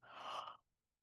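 A single human yawn with a breathy, sighing exhale, close and fairly quiet, lasting about half a second before trailing into silence.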